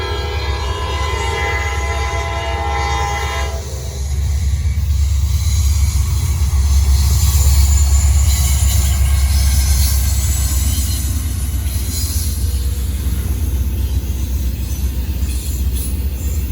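A Norfolk Southern M54 freight train passes close by on a hot day, a loud horn blast over the first few seconds giving way to a steady, heavy roar of rolling railcars and wheels that swells and stays strong throughout.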